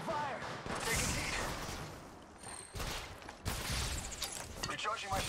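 Rapid gunfire from a firefight in the mobile battle royale game Apex Legends Mobile, with dense bursts of shots nearly continuous and loud throughout, briefly thinning in the middle before resuming.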